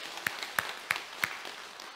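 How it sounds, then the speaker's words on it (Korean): Rhythmic unison clapping from a church congregation during a Korean Thanksgiving Sunday service, four evenly spaced sharp claps about a third of a second apart, fairly faint and without talk. "우리 하나님께 영광의 박수 올리겠습니다."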